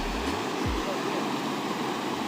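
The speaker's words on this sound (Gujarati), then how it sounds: "સામેની બાજુ જુઓ પાણી જે આથડાય છે ને ત્યાં કેટલું કોતર કરે છે" Banas river water rushing and crashing at Dantiwada dam, a steady loud broadband roar of flowing water throughout, with a brief low rumble near the start and no talk.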